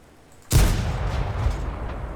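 A tank gun in World of Tanks fires an armour-piercing shell: one sharp, loud boom, then a long rumbling tail and low engine drone.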